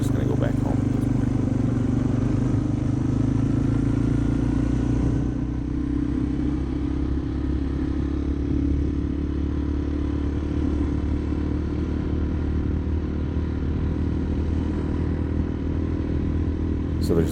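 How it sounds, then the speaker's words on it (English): Honda FatCat TR200 200cc motorcycle riding along, its engine a steady mid-pitched drone with a brief throttle change near the start, heard close and continuous under wind noise with a voice talking over it. "so you guys can really appreciate the sound of this 200 cc's of raw power"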